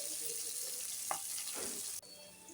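Onion, coriander, mint, curry leaves and green chilies fry in oil for egg fried rice, giving a steady close sizzle with a couple of brief stirring scrapes before it drops off abruptly.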